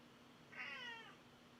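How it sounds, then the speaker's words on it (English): A pet cat gives one clear, drawn-out meow close by in a quiet indoor room, rising and falling over about half a second. "Oh, my kitty's here."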